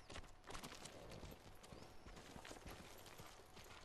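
Steady clip-clop of horse hooves in Ghost of Tsushima, continuous and fairly close, over a busy background of game sounds with no talking.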